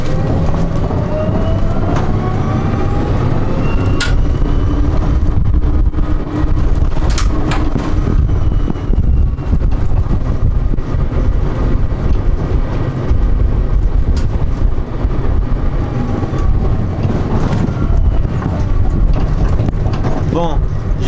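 Road noise inside a Renault 4L on the move: a loud, constant low rumble and roar from the road surface with faint squeaks and rattles throughout.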